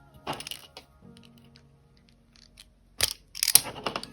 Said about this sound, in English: I do like these vice grips for stripping the wires